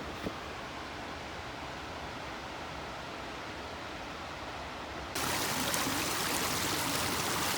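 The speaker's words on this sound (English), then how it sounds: "This is the river just below the falls." A river rushes steadily just below Hartnett Falls, a dense, even broadband roar close by with no voices, growing noticeably louder and brighter partway through.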